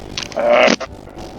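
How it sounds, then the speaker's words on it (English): A cat steps across a computer keyboard, producing a brief cluster of close clicks and a scraping rustle lasting under a second, then quiet. "that was my cat standing on my keyboard"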